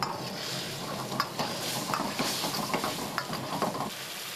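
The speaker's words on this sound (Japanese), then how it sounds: "食材が増えるにつれ高まる中華鍋の音。" Mapo tofu stir-fried in a Chinese wok, a continuous loud sizzle with rhythmic scraping and clanking of the spatula against the metal pan throughout.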